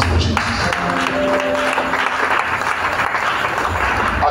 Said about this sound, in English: Clap your hands for Jesus.